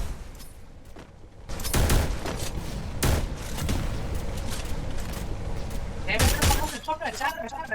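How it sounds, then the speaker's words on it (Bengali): Sniper rifle and other gunfire in a mobile shooter game, heard as a few sharp cracks and bursts spread across the clip, with voices talking throughout. "আমার স্নাইপার মারছে"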